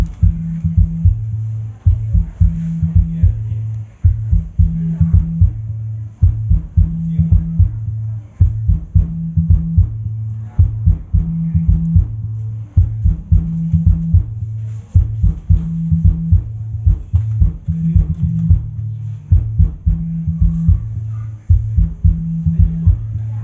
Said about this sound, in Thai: นี่เป็นเสียงเบสนะครับขับแบบอิ่มๆเลยนะครับ